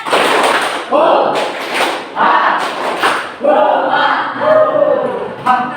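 A classroom of students performs a rhythmic clapping chant during an Islamic jurisprudence lesson, with loud bursts of claps and voices in repeated groups and short gaps between them.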